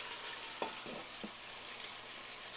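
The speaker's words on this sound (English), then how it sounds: "as you can hear, it's searing like mad" Garlic parmesan chicken searing in a pan, a faint, steady sizzle with a few brief clinks or bumps early on, distant and low in level.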